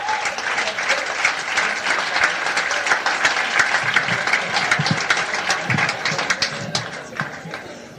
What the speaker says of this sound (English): Let's have a nice big round of applause